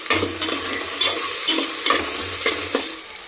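Onions fry in hot oil and ghee for chicken biryani, hissing under repeated scraping stirs of a utensil against the pan, close and fairly loud.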